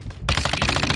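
A machine gun in Modern Warfare 3 fires a rapid, loud burst that starts abruptly after a short quiet moment and continues as a fast rattle to the end.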